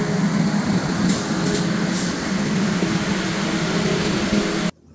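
The power car of the Dhumketu Express train gives off a steady, loud mechanical drone, a constant generator hum with a hiss above it that cuts off abruptly near the end.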